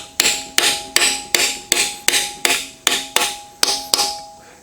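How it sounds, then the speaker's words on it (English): A hammer strikes a cold punch chisel against the freeze plugs of a small-block Chevy engine, ten sharp, evenly spaced metallic blows with ringing decay, close and loud with no talk. "I just take a standard cold punch chisel and a hammer."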